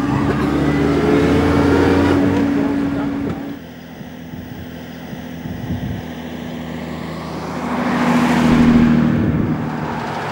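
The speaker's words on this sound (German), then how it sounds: "wer so einen Oldtimer fährt wie die beiden, wird ganz schön durchgerüttelt." Vintage car driving in the ADAC Württemberg Historic rally 2011, a loud close engine drone that dips, rumbles along, then swells again as it revs past, with a voice talking over it.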